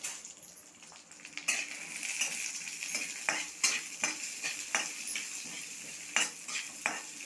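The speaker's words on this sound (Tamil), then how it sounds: "இதை நல்லா பொரியிற அளவுக்கு வறுபடணும்." Cumin seeds dry roasting in a pan, about two teaspoons, with steady soft crackling and repeated scraping stir strokes against the metal, close and fairly quiet, no voices.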